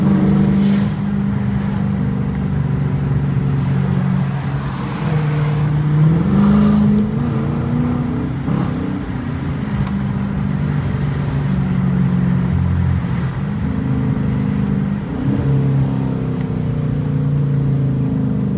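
A Chevrolet Corvette C8 engine revs and roars in rush-hour traffic alongside a Challenger R/T, with repeated throttle blips and swelling, falling exhaust tones, loud and close, plus passing traffic noise.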